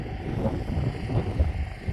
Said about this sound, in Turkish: Hava da o kadar rüzgar var ki